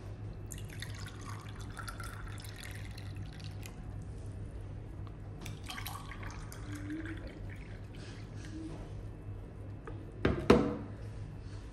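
Water is poured for serving at an iftar meal at an exhibition in Sharjah, heard as faint trickles and drips over a low hum, ending in a brief louder splash.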